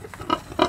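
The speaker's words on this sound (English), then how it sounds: "the inside of the pig pen" A pig in a pen at Slab City gives two short grunts, close and fairly loud, with a brief pause between them and no talk.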